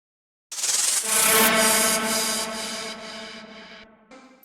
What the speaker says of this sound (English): I have some reverses and some crashes that sound like this.